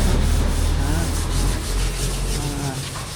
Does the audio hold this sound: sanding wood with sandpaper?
yes